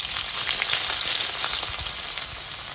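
Chopped onion frying in hot fish oil in a pan, a loud, dense, continuous sizzle and crackle close up, with no talking.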